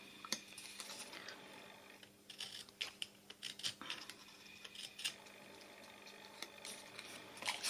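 Scissors snip through taped cardboard while a coffin-shaped box is made, giving a series of quiet, irregular crisp cuts and rustles at close range with no talking.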